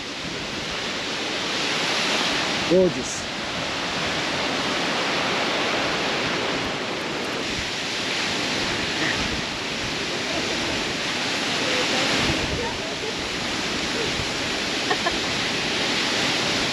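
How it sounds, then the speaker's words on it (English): A trickling waterfall at the Treasure Falls trailhead in Colorado gives a steady, even rushing wash of water, with one brief voice speaking over it. "the waterfall is like trickling water off, so it feels great"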